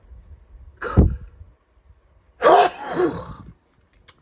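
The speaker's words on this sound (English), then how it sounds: "I've been having a sneezing fit today. I do love a good sneeze." Two sneezes, the first short and sharp, the second fuller with a trailing breathy tail, close up in a quiet room.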